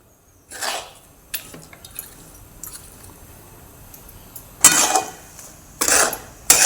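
A spoon stirs melting jaggery in a pan for homemade amla jam, giving a few scattered, loud scraping clinks against the metal with quiet gaps between them.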